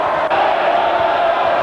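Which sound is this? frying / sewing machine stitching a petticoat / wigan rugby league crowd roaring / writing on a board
wigan rugby league crowd roaring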